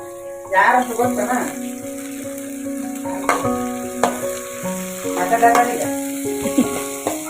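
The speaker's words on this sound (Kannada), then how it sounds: "ಕರಿಬೇವು ಹಾಕ್ತಾಯಿದ್ದೀನಿ ಕಾಳನ್ನ ಹುರ್ಕೊತೀನಿ ಒಂದು ಈರುಳ್ಳಿ ಹಾಕ್ತೀನಿ" Avarekalu beans fry with curry leaves and onion in a pan, giving a steady sizzle and intermittent stirring scrapes while someone talks over the cooking.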